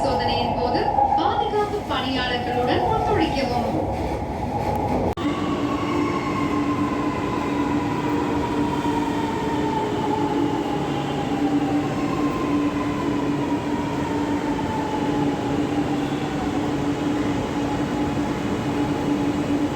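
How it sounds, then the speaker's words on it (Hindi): A Chennai Metro train runs at Alandur station, a steady rail rumble with long gliding whine tones and a brief burst of nearby talk at the start. "ये है आलंदूर मेट्रो स्टेशन चेन्नई का"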